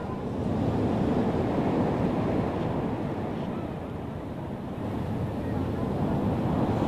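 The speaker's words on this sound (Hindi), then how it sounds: "धीरे धीरे जो पानी का जो लहरें हैं वो आगे आ रहा है, तट की तरफ आ रहा है।" Sea waves surge toward the shore at Digha during Cyclone Dana, a steady, loud wash of surf mixed with wind roar that fills the whole stretch without a break.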